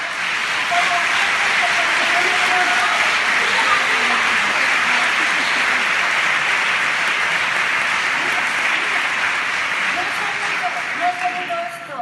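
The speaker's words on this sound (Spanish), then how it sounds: "Por eso sí que voy a pedir un fuerte aplauso" Audience at the Bilbao Dendak gala breaking into loud, sustained applause, dense clapping from a large crowd holding steady for about twelve seconds with a voice briefly heard over it.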